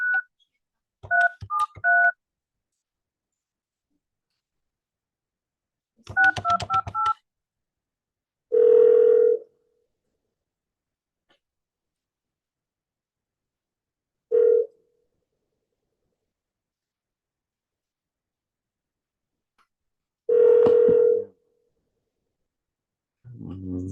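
Telephone call being placed: a few quick bursts of touch-tone dialing beeps, then repeated single ringback tones spaced several seconds apart against silence.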